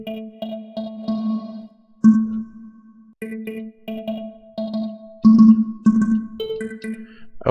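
FL Studio techno synth with reverb added, choppy repeated tonal stabs whose tails smear and ring out between hits, loud and close with no one speaking.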